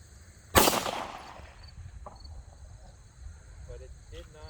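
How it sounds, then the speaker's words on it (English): One sharp, loud, close gunshot from a 3D-printed Lo-Point pistol built on a Hi-Point C9 frame cracks out outdoors, its echo tailing off over a quiet background of chirping crickets. "so I'm just going to shoot this one mag."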